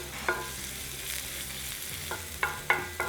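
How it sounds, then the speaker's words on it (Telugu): Chopped garlic and finely sliced green chillies frying in oil for chicken tawa pulav, a faint soft sizzle with several sharp scraping clinks of a spatula against the pan. "సన్నగా తరిగి పెట్టుకున్న పచ్చిమిర్చి వేసి ఇవి కొంచెం వేగనివ్వాలి"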